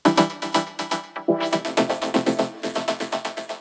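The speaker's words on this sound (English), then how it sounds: "Also in the breakbeat part, there are some vocal chops." Chopped vocal syllables stutter in a quick rhythmic pattern, bright and pitched, with a short pause before the chops resume in a steady sequence.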